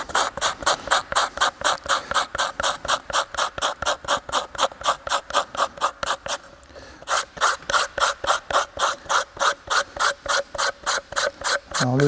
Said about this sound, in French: On passe un petit coup de verre.